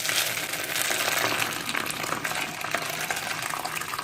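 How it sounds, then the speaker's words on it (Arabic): Water pours steadily over dry wheat grains set out to soak. A continuous, fairly loud splashing rush runs alone for a few seconds. "وبعد كده بنبدأ نحط عليه مية"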